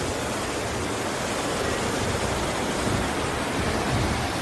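The swift Bhagirathi and Alaknanda rivers meet at Devprayag in a continuous broadband roar of rushing water. It is loud and unbroken throughout, with no talking.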